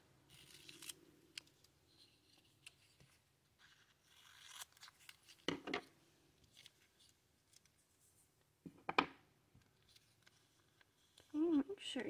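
Scissors trimming washi tape around the edge of a wooden earring: a few short, close snips and crinkly cuts scattered among quiet pauses, with handling rustles and a person speaking briefly at the end.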